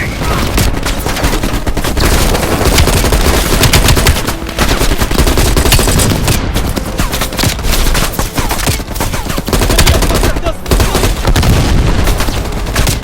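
Dense, loud machine gun fire in Call of Duty Black Ops Cold War, continuous bursts with booming impacts layered throughout a busy battle scene.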